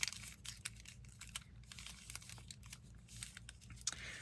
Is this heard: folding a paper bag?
yes